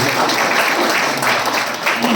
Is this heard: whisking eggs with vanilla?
no